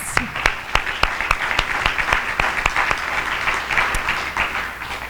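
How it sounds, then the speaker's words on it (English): An audience at a North Carolina public school accountability results presentation applauds in a sustained, even roar of clapping, with a few sharper nearby claps punctuating the steady crowd sound, and no speech. "Give them a round of applause."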